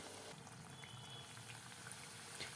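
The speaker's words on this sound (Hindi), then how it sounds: "गुजिया डाल देती हूँ मैं इसमें" Gujiya sizzle as they deep fry in hot oil, a faint, steady bubbling crackle heard up close with no talking.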